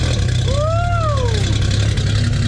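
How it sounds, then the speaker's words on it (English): A Nissan R33 Skyline's RB25 engine revs up and falls back to idle, with a rising and falling exhaust whine over a steady low rumble, loud and close. "It sounds good. That exhaust note's tough."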